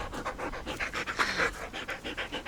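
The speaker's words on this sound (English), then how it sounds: "And a dog." Dog panting hard and steadily after a walk on a hot day, quick rhythmic breaths close to the listener, with no talking over them.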